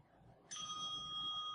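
A small bell is dinged once, a bright clear ring that strikes suddenly and then rings on evenly through the rest of the moment over quiet room noise.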